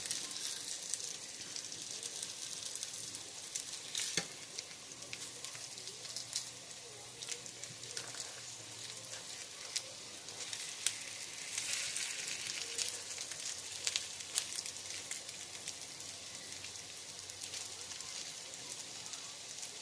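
Salmon patties frying in a pan, a soft, even sizzle like light rain that runs continuously, with occasional pops and a low background hum.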